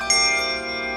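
A single handbell rung with the gyro technique at a bell choir rehearsal gives a clear, bright strike followed by a sustained ringing tone that fades only slightly within a second.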